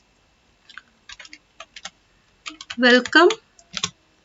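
Keys clacking on a computer keyboard in bursts of quick taps, close and fairly crisp, with a person speaking between and over the typing.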